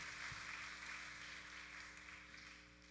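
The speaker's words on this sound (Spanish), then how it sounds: "Denle ese aplauso al Señor, a nuestro Señor Jesucristo" Applause from a church congregation, fairly faint and steady, with a low hum underneath.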